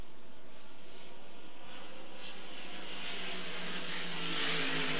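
Racing hydroplanes at the 1990 Valleyfield Regatta roar off the start of a qualifying heat, a loud, steady broadband engine drone that swells and grows brighter and closer toward the end.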